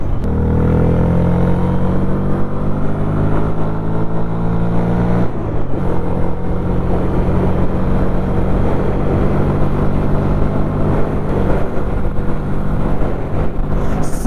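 A new CNG motorcycle accelerates hard during a top-speed run, its engine note rising through the gears and then holding a loud, steady drone alongside wind rush, with no talk.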